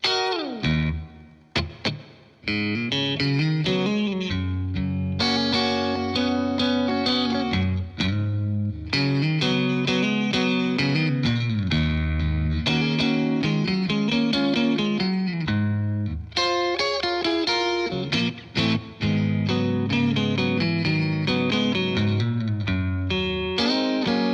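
Clean 1996 Stratocaster ST-62 electric guitar plays chords and melodic runs with a glassy, shimmering tone and chorus-like modulation, continuous and loud.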